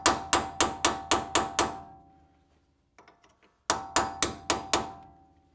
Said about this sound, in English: when you use a cold chisel and a hammer to kind of get behind the lip